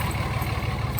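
A Cummins straight-six diesel in a Dodge Ram idles steadily, giving a low, even rumble that stays close and constant throughout the short stretch.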